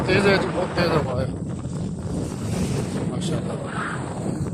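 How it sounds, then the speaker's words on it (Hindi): Strong wind blows at the Red Sea shore near Yanbu, Saudi Arabia, buffeting the microphone with a constant roaring rush, with gusts and faint surf beneath. "हवा तेज़ है जी, बहुत तेज़ हवा है"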